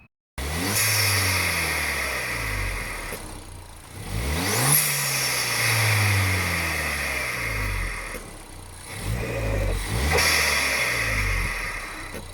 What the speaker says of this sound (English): we're going to start up the car and I'll show you exactly what it sounds like on just some revs